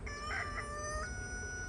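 A rooster crows once in the distance beyond a beehive, a faint drawn-out cock-a-doodle-doo over quiet background noise.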